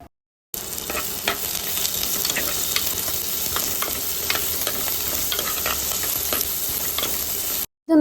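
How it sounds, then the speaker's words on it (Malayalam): Onions, green chillies, ginger and curry leaves fry in hot oil for a Kerala-style roasted coconut shark curry, a steady close sizzle with scattered crackles and pops, occasional stirring, and no voices. "സവാളയും പച്ചമുളകും ഇഞ്ചിയും കറിവേപ്പിലും എല്ലാം ഇട്ട് കൊടുത്തിട്ട് നല്ലപോലെ ഒന്ന് നമുക്ക് മിക്സ് ചെയ്തെടുക്കാം"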